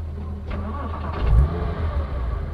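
Porsche Cayman S engine revved with the clutch fully pressed, heard from inside the car: a steady low rumble that swells briefly near the middle, then settles back.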